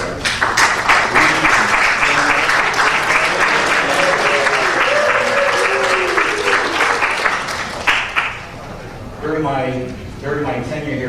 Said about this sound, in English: stand up and so we can all just acknowledge you and applaud your effort in putting this together